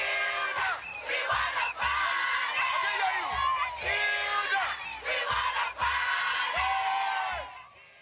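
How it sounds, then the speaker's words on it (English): A large crowd cheers and whoops in loud, sustained waves at an event for Nigerian chef Hilda Bachi's cooking record, with rising yells overlapping into a continuous roar. "The crowd was there for Hilda Bachi"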